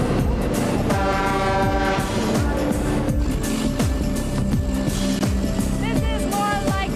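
A train rumbles and clatters steadily nearby in Ecuador, with a horn-like tone sounding at moments and voices audible over the noise, heard from riding on the train's roof.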